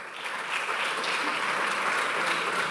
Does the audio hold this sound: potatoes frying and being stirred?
no